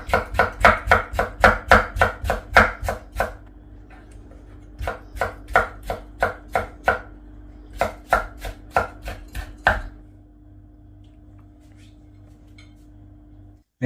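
Tomatoes being chopped with a knife on a board, a fast run of sharp, evenly spaced chops in bursts of about a dozen, pausing, then two more rapid bursts before stopping; close and clear over a low steady hum.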